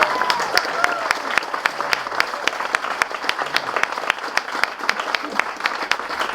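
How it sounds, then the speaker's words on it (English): An audience at a lecture on stone circles and Adam's Calendar gives a round of applause, with many sharp claps landing in a fairly steady, rhythmic pattern over a low crowd murmur. "Come on guys, give yourselves a big round of applause."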